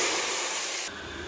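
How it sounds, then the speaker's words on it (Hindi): Green and red chilies in hot oil hiss and sizzle as the tadka is poured onto Lahori dal, a loud steady crackling spray that drops to a softer simmering hiss partway through. "अब इसमें मैं 2-3 जो हरी मिर्चें मैंने की हैं वो और रेड चिली ये डाल के सिर्फ 1-2 सेकंड के बाद ही इसको मैं दाल पे तड़का लगाऊंगी"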